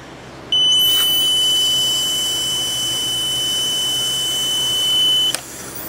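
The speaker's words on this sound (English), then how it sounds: "And you'll hear the beep when I'm done." A breathalyzer emits a steady, high-pitched electronic beep continuously for about five seconds over a hiss while someone blows into it, then cuts off with a click.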